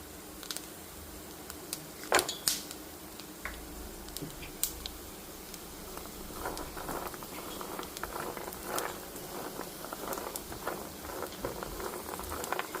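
Peanuts and dry coconut roast in a dry pan, making scattered sharp crackles and pops over a soft hiss. The popping grows busier toward the end. No voices are heard.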